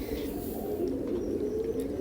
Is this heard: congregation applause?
no